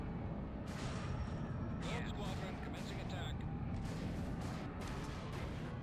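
Bombs explode in the Star Wars game CIS – Fall of the Republic as a dense run of booming blasts and crackling bursts over a constant deep rumble, with bright explosive hits repeating through the second half.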